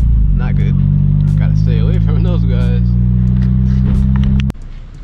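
A Nissan Silvia Spec-R S15 cruises along with a steady low engine drone close by, while someone talks over it throughout; the engine note drops abruptly near the end.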